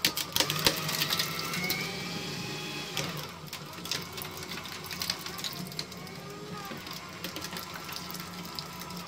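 A Fellowes Powershred 73Ci paper shredder chews through credit cards with a steady, close mechanical grinding and whirring that runs throughout, broken by small crackling bursts as the plastic is cut.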